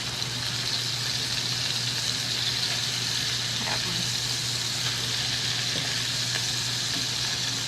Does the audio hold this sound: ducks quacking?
no